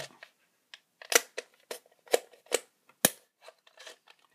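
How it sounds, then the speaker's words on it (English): A plastic Penguins of Madagascar periscope toy from a 2014 McDonald's Happy Meal is pulled open, giving a string of sharp, close plastic clicks and rattles before it locks into place. "you just pull until you hear a click and now it's locked into place"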